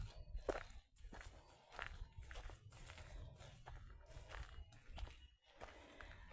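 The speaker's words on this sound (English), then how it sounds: "I just heard footsteps behind me." Footsteps crunch along a path at Gold Creek Reservoir in an irregular walking rhythm, soft to moderate and close, with no talk over them.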